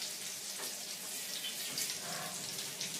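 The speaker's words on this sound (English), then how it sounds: "I'm just going to wash one of my potatoes and bring it back in." Running tap water splashes over a potato being washed in a kitchen sink, a steady broadband rush close by with small irregular splatters, no talking.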